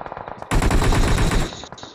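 Sustained automatic gunfire laying down cover fire in PUBG erupts after a few scattered shots, a dense, loud burst of rapid rounds lasting about a second before cutting off, followed by a couple of trailing reports.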